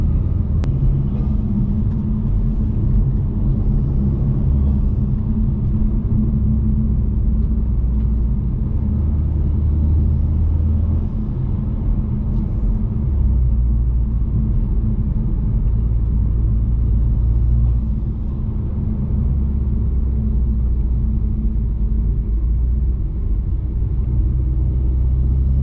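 A 2022 Acura TLX A-Spec drives the canyon curves of Angeles Crest Highway, its engine intake giving a deep, steady rumble heard from inside the car, loud and continuous with slight swells, and no talking.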